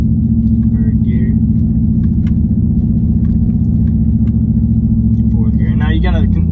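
A 2014–2015 Chevrolet Silverado with no muffler, lifted on 37-inch tires, pulls away slowly in third gear with a loud, steady low exhaust drone throughout, and a voice briefly speaks over it near the end.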